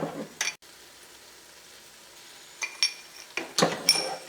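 Chicken frying in a pan for palak chicken, with a few spoon scrapes and metallic clinks against the pan over a quiet sizzle, close by and without talk.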